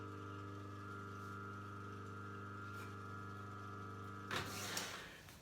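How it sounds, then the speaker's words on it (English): A juicer motor hums steadily while pressing celery, rhubarb, pear, apple and orange, ending in a louder, rougher grinding surge near the end. "I'll juice right now and I'll come back in a sec and show you the juice"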